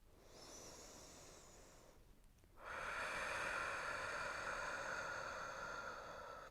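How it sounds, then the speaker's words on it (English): Deep, steady breathing during a yoga flow practice, a soft airy hiss that swells louder partway through and holds as a long sustained breath, close to the mic with no talking. "Breathing deep."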